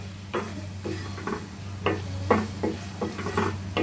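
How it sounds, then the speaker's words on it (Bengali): Cumin and coriander powder paste is stirred and fried in a pan for a fish bhuna, with a soft low sizzle beneath repeated scraping strokes of a spatula in an uneven rhythm, close by and without speech. "দিয়ে দিচ্ছি জিরার গুঁড়া, দিয়ে দিচ্ছি ধনিয়ার গুঁড়া। এরপরে ভালোভাবে মশলাটা আমি কষিয়ে নিব।"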